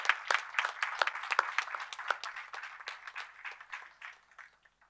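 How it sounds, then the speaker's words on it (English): A conference audience gives a round of applause at a valedictory function, dense clapping that is steady at first and then thins out and fades toward the end. "I would like to start my first round of applause for all those who work invisibly."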